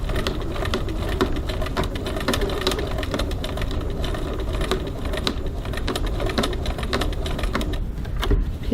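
A sewing machine fitted with a size 16 jeans needle stitches a crossbody bag, a fast, steady run of mechanical clicks and taps continuing throughout.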